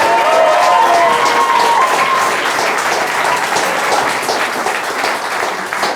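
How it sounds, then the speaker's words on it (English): Audience at a live science sketch show applauding the host's father, loud, close, sustained clapping with a faint whistle-like tone early on, holding steady for the full six seconds. "let's give a big round of applause for my father, Mark Tingnell"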